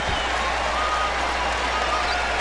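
A basketball arena crowd applauds both teams after a Louisville–Bellarmine game, producing a dense, steady wash of clapping and crowd noise with no breaks.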